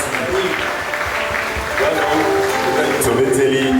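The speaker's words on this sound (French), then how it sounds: "Applaudissez pour Gianni, nous le célèbrons" An audience claps at a celebration in a church gathering, a continuous patter of hands mixed with voices and music, growing slightly louder midway.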